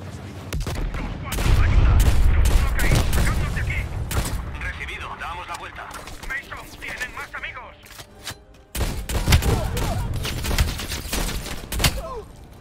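Barrett sniper rifle fired in rapid succession like a machine gun in the video game Call of Duty: Black Ops Cold War, a dense burst of loud gunfire with booms and game sounds throughout, briefly cutting out before resuming.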